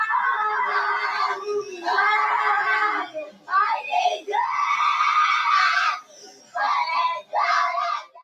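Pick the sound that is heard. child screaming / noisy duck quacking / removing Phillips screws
child screaming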